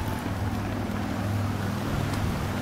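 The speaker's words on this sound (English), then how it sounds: "it's really windy right now" Strong wind buffets an outdoor microphone in a steady low roar, with gusty rumble throughout beside a 2015 Nissan Altima 3.5 SL with a V6, and no one speaks.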